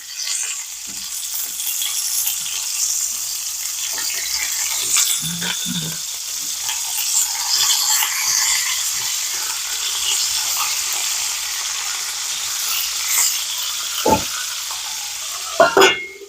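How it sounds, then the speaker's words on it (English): Steady, close sizzling and crackling from chicken skin searing in a hot pan runs throughout, with a few light knocks and scrapes of a utensil. "I hope you can hear me over the sizzling of the chicken"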